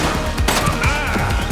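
Rapid gunfire crackles through a dense, loud burst of action in the police video game The Precinct, continuous shots packed together with no pauses.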